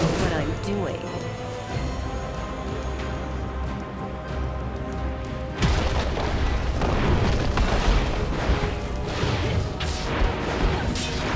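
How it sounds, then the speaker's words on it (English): Turret destruction in a League of Legends match on the Twisted Treeline map: dense game audio whose heavy booming crash rises sharply midway and keeps rumbling with bursts and smashes over a steady music bed. "Your team has destroyed a turret."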